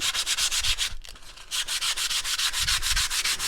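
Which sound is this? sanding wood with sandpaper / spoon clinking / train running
sanding wood with sandpaper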